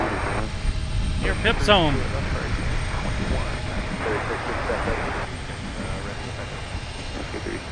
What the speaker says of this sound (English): American Airlines flight is headed to Phoenix.